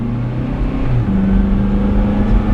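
The engine of a 2006 Honda CR-V SE revs steadily at about 3,500 RPM under normal acceleration, a continuous low droning hum heard from inside the cabin with no talking.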